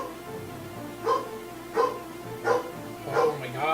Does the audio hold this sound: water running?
no